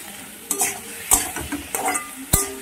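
Taro and hilsa fish curry being stir-fried in a pan, a low sizzle punctuated by four distinct scrapes and clacks of a spatula against the pan at irregular intervals, close and fairly loud.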